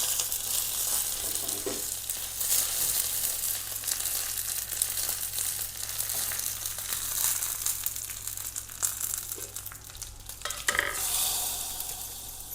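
Mustard seeds, dried chillies and curry leaves crackle and sizzle steadily in hot coconut oil for a tempering, a dense continuous frying hiss close by with occasional sharper pops, no voices.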